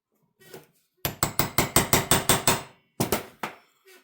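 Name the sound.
tapping a mark on a piston before drilling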